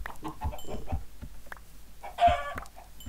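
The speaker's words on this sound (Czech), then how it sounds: "Tady vypadá, že je víc slepiček." Chickens cluck in a Minecraft game, a series of short, soft clucks repeating irregularly, with one slightly louder call near the end.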